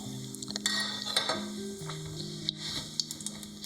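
Cumin seeds sizzle and crackle in a pan over a medium flame, a steady close frying hiss with scattered sharp pops and light stirring clinks against the pan.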